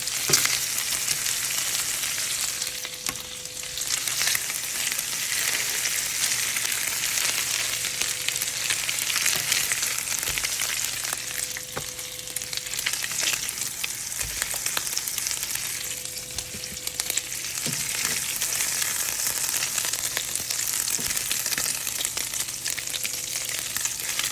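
Eight patties fry in a hot pan until browned, making a continuous, even sizzle and crackle close by with faint clinks now and then and no talking.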